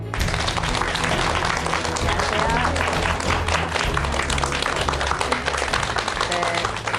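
Dense, steady applause from a studio audience welcoming a guest onto a talk show stage fills the whole stretch, with a low music bed underneath and no pauses.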